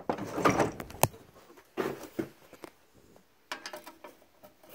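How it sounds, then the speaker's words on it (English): Small metallic clicks and scrapes from a screwdriver taking screws out of the carburetor cover on a Tecumseh 8 hp small engine, quiet, close and irregular, with short pauses between bursts of handling. "Take these couple screws out here."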